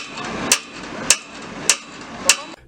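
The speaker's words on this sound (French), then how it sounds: "Ce coup de marteau annonce la dernière ligne droite vers la fin des travaux de modernisation du tunnel." Four sharp, ringing hammer blows land at an even pace, about half a second apart, on a tunnel modernisation construction site, each loud and clear over a low background hum.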